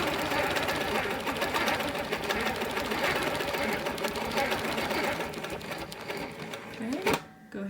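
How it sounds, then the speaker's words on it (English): Sewing machine quilting a heart-themed wholecloth quilt along a center line, with a steady, loud, continuous mechanical whir that slows and stops near the end. "So then I'm going to stitch along here."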